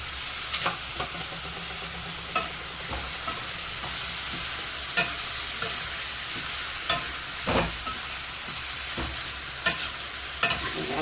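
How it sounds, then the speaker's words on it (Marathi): Crushed ridge gourd stir-fried in a pan for a rustic village-style thecha, a steady sizzling hiss broken by regular sharp scrapes and clinks of the spatula. "आता आपल्याला त्याचा हा ठेचलेला दोडका टाकायचा आहे"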